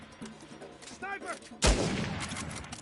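A single heavy gunshot booms in Uncharted 4, followed by a long rumbling tail, after brief shouting voices.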